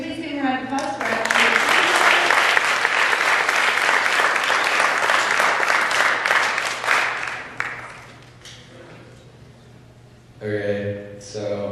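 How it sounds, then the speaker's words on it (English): A full round of applause from a school audience welcoming returning alumni at a class advice session, loud and dense for about seven seconds before fading out, followed by a person beginning to speak. "Can we please give a round of applause for our"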